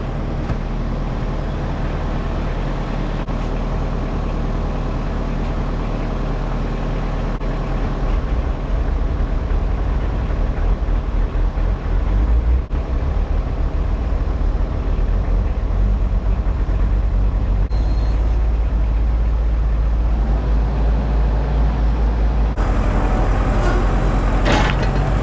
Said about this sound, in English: I'm gonna get a cold start going on this skid steer